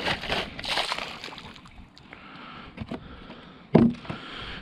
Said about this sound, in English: Just gonna give this a bit of a rinse quick.